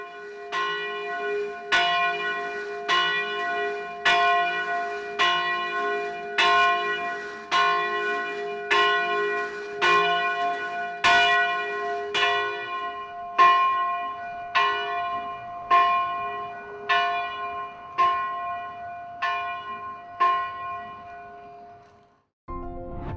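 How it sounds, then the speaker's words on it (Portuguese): Cathedral church bells ringing the hour, rung by an electronic device: a steady series of loud, resonant strikes about one per second, each ringing on and overlapping, continuing for over twenty seconds before stopping abruptly. "E chegou a hora da verdade, da gente escutar aquele símbolo da comunicação nos tempos antigos e que hoje, de hora em hora, marca o relógio dos cachoeirenses"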